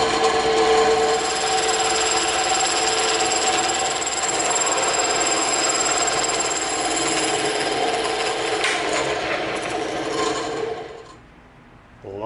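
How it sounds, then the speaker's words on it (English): A bandsaw with a tilted table cuts a bevel around a circle in EVA foam, giving a steady, loud whirring buzz close by that runs continuously before winding down at the end. "We're going to trace with the bandsaw right around our circle"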